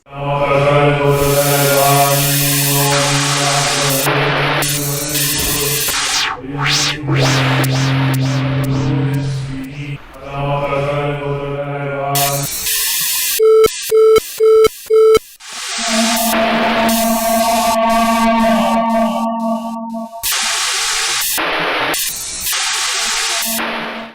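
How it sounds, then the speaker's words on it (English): Harsh layered vocal drones and buzzing tones shift abruptly, broken by stuttering static bursts and sustained electronic-sounding hums, dense and abrasive throughout. "using my voice as an instrument, and also just creating noise music with it"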